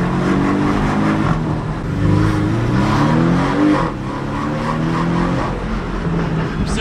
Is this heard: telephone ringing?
no